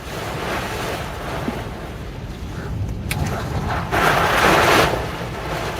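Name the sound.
wind blowing outdoors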